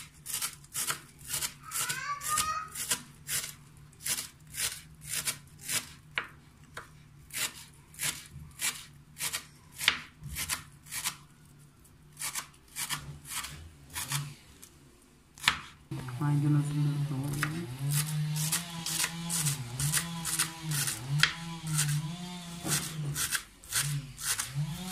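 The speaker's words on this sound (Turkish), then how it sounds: "Evet, yeşilliklerimizi doğrayalım." Fresh greens chopped by hand with a knife for Turkish mücver: a steady run of crisp, close knife strikes on a cutting board, briefly pausing before resuming at a quicker, denser pace over background music.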